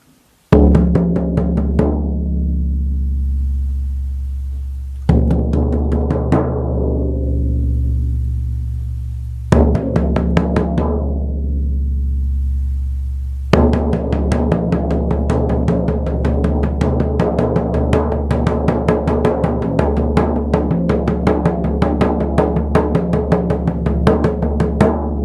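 Shamanic journey drum callback: three single heavy booming strikes, each left to ring and fade for several seconds, then a fast, steady, loud drumbeat that continues to the end.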